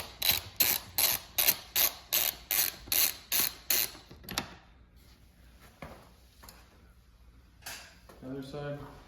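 Rapid ratcheting clicks of a tool loosening 4 mm Allen bolts on an Aprilia RS 660 integrated taillight mount, a regular burst of about ten loud clicks followed by quieter handling sounds and a voice speaking.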